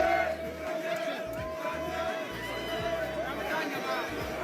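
A dense street crowd at Fête de la Musique, with loud overlapping shouts and chatter close by and steady babble throughout, while a low bass beat pulses underneath.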